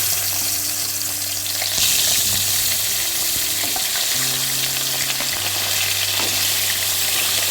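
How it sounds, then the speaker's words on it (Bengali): Koi fish rubbed with salt and turmeric fry in oil in a wok, a loud, dense, continuous sizzle with occasional stirring scrapes, a low steady hum running beneath; no talking. "এবার মাছগুলো ভেজে নিচ্ছি"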